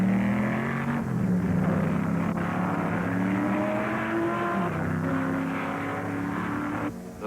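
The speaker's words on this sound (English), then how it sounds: "Up front, the Hill-Bonnier 4-liter Ferrari has taken the lead from Surtees late in the afternoon." 1963 Grand Prix sports racing cars, including a 4-liter Ferrari, roar past in a loud, continuous engine drone that shifts pitch as they accelerate and pass, before easing slightly at the end.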